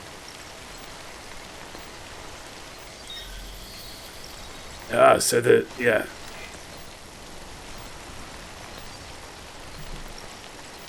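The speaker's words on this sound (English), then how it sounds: "The sound of the rain keeps dipping." Steady rain falls in the video game Death Stranding, a soft, even hiss that runs throughout. Someone speaks briefly partway through.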